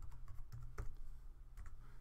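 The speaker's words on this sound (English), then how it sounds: "Hit the enter key when I'm done typing." Typing on a computer keyboard, a steady run of close, light key clicks with uneven rhythm over a low room hum.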